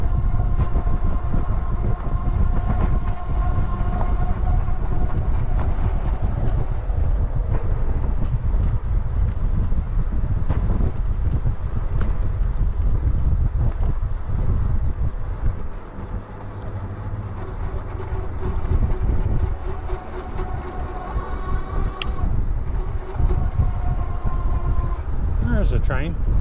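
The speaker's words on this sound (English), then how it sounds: "There's a train." A train rolls past near a rail trail in the hills of San Marcos, a steady low rumble and rattle that fills the whole stretch, mixed with heavy wind buffeting the microphone and some quiet talk.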